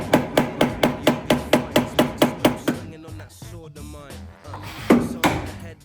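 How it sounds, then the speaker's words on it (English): Sharp metallic strikes of a hammer driving a flat-blade screwdriver through spot welds on the front of a classic car repeat in a fast, steady rhythm for about three seconds, then give way to someone talking, with one more clank near the end. "going around the front of the car on these little spot welds with a hammer and a flat blade screwdriver"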